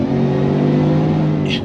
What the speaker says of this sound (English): you can hear the supercharger a little bit, but it's not a loud whine.